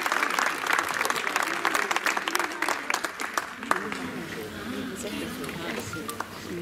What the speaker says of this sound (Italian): togliamolo con un grande applauso